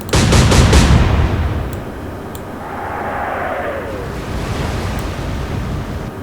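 Naval guns firing a salvo in the Atlantic Fleet video game, Battle of the Atlantic, from the Great Britain side: a loud burst of booming reports at the start, then a rushing rumble of sea and wind that fades.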